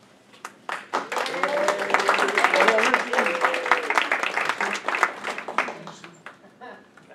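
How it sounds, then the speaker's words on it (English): A comedy showcase audience breaks into applause, dense clapping swelling quickly, holding for several seconds, then thinning out to scattered claps. "I'd like you all now to give a big round of applause for Ricky."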